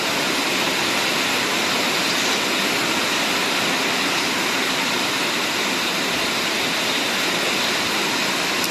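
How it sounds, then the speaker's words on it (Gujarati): Heavy rain pours down over a flooded garden, a dense, unbroken, loud rushing hiss that stays constant from start to finish with no voices. "ફૂલ વરસાદ આવ્યો."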